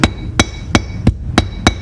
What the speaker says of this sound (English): the flat side of the hammer to flatten the rivet